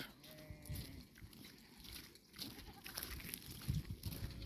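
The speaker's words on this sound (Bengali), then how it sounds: "ভেড়া, যেটাকে সৌদি আরব দুম্বা বলে।" Several fat-tailed sheep (dumba) bleat at moderate distance against an open-air background hiss, with calls overlapping irregularly across the stretch.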